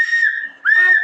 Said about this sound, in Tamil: ஓகே, அவளுக்கு விசில் கிடைச்சிருக்கு.